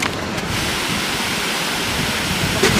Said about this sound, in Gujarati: તમે આ વોટરફોલ તો ખૂબ જ એન્જોય કર્યો